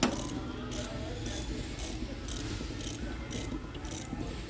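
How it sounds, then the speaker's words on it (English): A ratchet wrench with a 1 1/16 socket turns counterclockwise to loosen the drain plug on a hot water heater, a steady run of rapid pawl clicks in regular bursts, close up, over a constant background hum. "Now the next thing we're going to do is take our 1 1/16 socket. Going to put it on our plug. Go counterclockwise."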